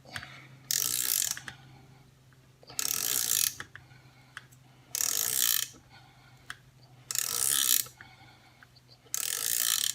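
A Harbor Freight Icon flex-head ratcheting wrench is cranked in five loud bursts of rapid ratchet clicking, each about a second long, separated by short quiet pauses, close up with no voice.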